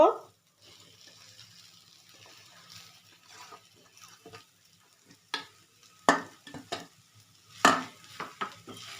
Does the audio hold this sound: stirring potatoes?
yes